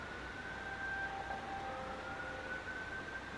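A siren wails outside during a Persona 3 play session, a steady distant tone holding under a low background rumble, faint but continuous throughout.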